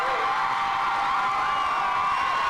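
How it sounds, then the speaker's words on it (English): A crowd cheers and whoops at a 1994 Chatfield vs Broomfield high school homecoming game, a dense, continuous wash of voices heard from within the stands. "It's early in the morning to be that excited and cheering."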